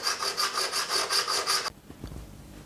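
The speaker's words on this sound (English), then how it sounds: "I'm just using a fret abrasive rubber as a sanding block" Quick, rhythmic back-and-forth rasping strokes of an abrasive rubber block sanding the frets of a Fender Japan Telecaster, about seven in a row, close up before stopping abruptly, followed by light handling noises.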